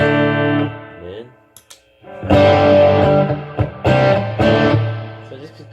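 Electric guitar chords ring out distorted through a Sonicake Sonicbar rock amp, loud and sustained with thick overdriven harmonics, broken by a brief pause and short muted scratches before heavier strummed chords return.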